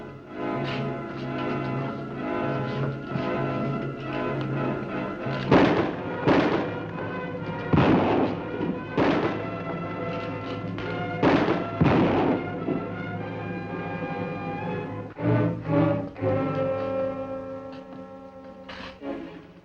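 Gunfire in a western film battle, repeated booming shots at irregular intervals, some in quick pairs, ringing out over a continuous background score.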